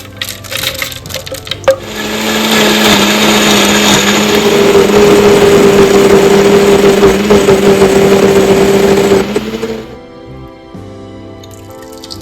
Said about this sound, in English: Now we can transfer to a blender.